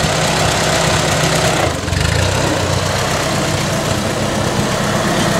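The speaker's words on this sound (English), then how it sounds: "Here comes Jordan on the 8N" A Ford 8N tractor engine chugs steadily nearby with a rough, knocking idle-like rhythm, loud and continuous with no talking.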